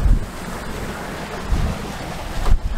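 A sailing dinghy speeds over ocean waves off New Zealand, with loud broadband wind buffeting and water rushing, plus low thumps as the hull slaps swells at about 1.5 and 2.5 seconds; no one talks.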